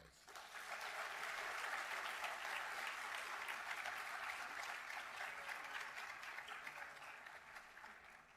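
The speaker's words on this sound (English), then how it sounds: "Let's give yourselves a large round of applause." Sustained applause from an audience at a medical school white coat ceremony, steady dense clapping that swells in the first second and holds for about eight seconds, fading slightly toward the end.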